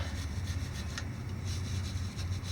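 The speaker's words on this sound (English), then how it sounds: "That's where this old wire brush comes in handy." An old wire brush scrubbing the rear end housing of a 2018 Ford F250 6.7 diesel pickup, a continuous fast scratchy rubbing, close and steady, over a low rumbling background.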